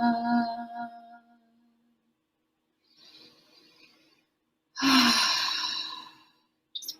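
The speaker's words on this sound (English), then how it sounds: "Just breathing" Slow, meditative breathing up close: a long audible exhale, a quiet pause, then a softer breath and another deep sighing exhale, with near silence in between.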